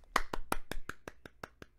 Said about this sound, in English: Polite golf claps all around.